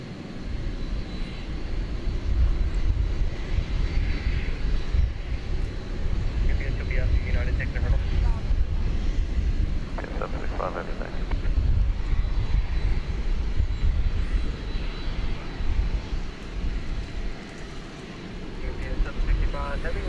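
Airliner jet engines roaring on takeoff at DFW Airport, a steady loud broadband rumble lasting throughout, with radio chatter from air traffic control heard over it.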